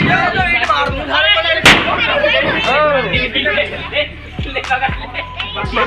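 Diwali firecrackers go off in a string of sharp, loud bangs close by, several bursts spread across the moment, with excited people talking and shouting throughout.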